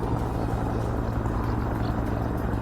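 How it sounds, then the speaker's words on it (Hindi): Firefighting helicopters over a blazing national park, a steady low rotor and engine drone holding loud and constant throughout with no break or voices. "आग को बुझाने के लिए बड़ी संख्या में हेलीकॉप्टर्स की भी मदद ली जा रही है"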